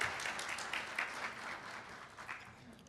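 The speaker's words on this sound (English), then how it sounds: "Please give him an applause." An audience claps for a student musician at a community partner breakfast at the University of South Carolina, a short, faint patter of applause that tapers off.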